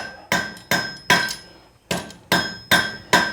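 A hammer strikes hot steel on an anvil while a meat hook is forged, seven sharp ringing blows in an uneven rhythm, loud and close, each with a short metallic ring.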